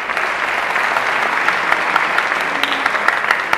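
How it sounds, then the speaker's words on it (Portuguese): A crowd at a sports awards gala in Vila Pouca de Aguiar gives a sustained round of applause, loud, dense clapping with a few sharper claps standing out. "não deixa de dar uma grande salva de palmas"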